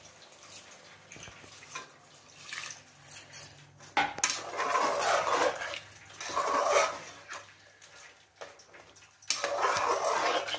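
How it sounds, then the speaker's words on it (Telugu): Water poured into a pot of Telangana-style goat head curry, with bursts of splashing and metallic clinks of utensils against the pot, close and fairly loud, coming in several waves with no talk. "కొంచెం ముక్క మునిగేదాకా వాటర్ పోసుకోవాలి."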